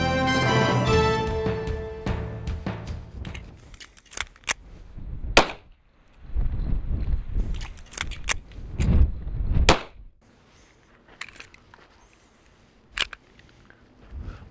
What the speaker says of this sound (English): What you just witnessed was an emergency reload from slide lock.